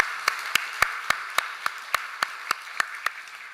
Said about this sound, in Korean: 우리 다시 한번 박수로 축하하도록 하겠습니다.